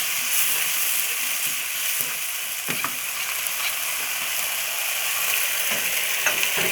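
Duck stir-frying with dried chili in a wok as sauce and sugar go in, a steady loud sizzle with scraping stirs and occasional clanks of the spatula, no voices.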